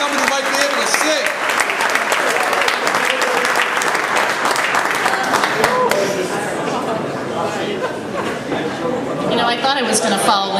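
Sustained audience applause after a singing performance at a 2010 event, dense and loud throughout with cheering and chatter mixed in.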